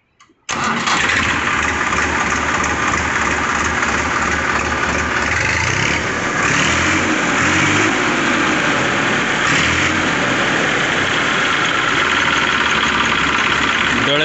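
A Massey Ferguson 245 DI tractor engine cranks and catches after a brief moment, then settles into a steady, loud, rumbling idle that runs unbroken to the end.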